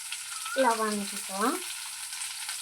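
Raw mango pieces sauté in a hot pan with a steady, close sizzle, while a short voiced, tonal sound rises briefly in the middle.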